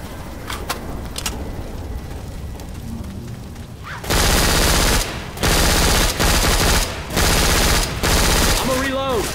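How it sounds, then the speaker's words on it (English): Rapid automatic gunfire from the zombie shooter Left 4 Dead 2, dense overlapping bursts after a quieter opening with chatter, loud and close, several bursts separated by brief pauses. "Why in the hell y'all keep shooting me?"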